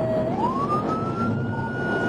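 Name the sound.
police car siren during a pursuit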